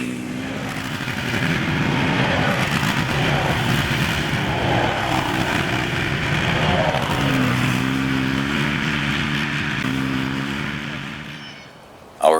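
ATVs riding along dirt trails through Michigan forest roads produce a steady, loud engine drone for about twelve seconds. The engine note shifts slightly partway through and then fades at the end.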